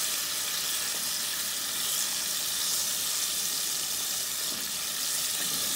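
Dry-battered fish frying in hot oil, a steady, loud, dense sizzle with crackling bubbling that holds unbroken throughout, no voices over it.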